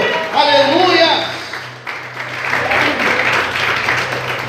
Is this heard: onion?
no